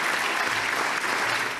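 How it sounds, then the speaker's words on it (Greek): Members of the LGBTQ community applaud from the Greek parliament gallery after a 175-vote approval, producing dense, steady clapping that fills the whole stretch without pause. "Μέλη της ΛΟΑΤΚΙ κοινότητας χειροκροτούν"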